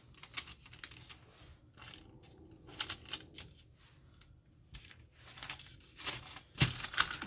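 Parchment paper crinkles and rustles in soft, irregular bursts as it is handled while folding bread dough over olives for a ham loaf, quiet and close, with louder crumpling near the end.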